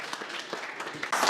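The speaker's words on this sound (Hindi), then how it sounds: "एक बार ताली बजाओ इनके लिए" Brief applause from an audience at a farewell and certificate distribution event for a mobile repair training batch, a short burst of clapping that swells louder at the end.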